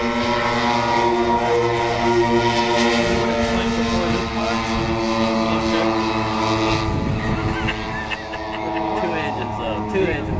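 A radio-controlled model B-29 bomber with multiple propeller engines flies low over an airshow field during a stall turn, its loud droning buzz steady and close throughout, with strong harmonic whine and slight pitch shifts as it passes.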